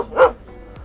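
A puppy gives a single short, high yip-like bark close by, followed by faint quieter sounds.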